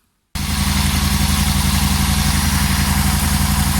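A motorcycle engine, started by spraying brake cleaner down the inlet with the airbox lid off, catches abruptly and settles into a loud, steady, throbbing idle that runs on alone.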